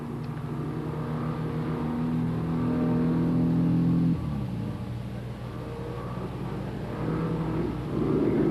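A race car on a 1978 hill climb accelerates out of a corner, its engine holding a steady drone, then dropping and climbing again in pitch as it pulls away, loud and unaccompanied by speech.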